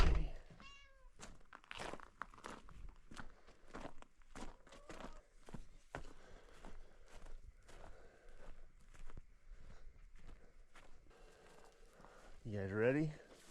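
A pet cat meows a few times near the start, brief and moderately close, amid footsteps, thumps and a person's voice greeting it outdoors at a mountainside deer farm.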